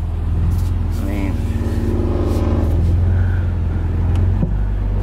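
A Nissan S14 on the move, heard from inside the cabin as a loud, steady low engine rumble with road noise. Faint voices sit under the drone.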